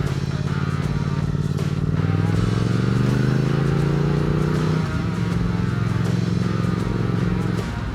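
A Triumph Speed Twin 1200 motorcycle engine hums and rises in pitch through switchback curves, a steady close drone with the revs climbing, dropping and climbing again as the bike shifts gears, with wind noise over it.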